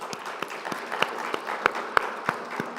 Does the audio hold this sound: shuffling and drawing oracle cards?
no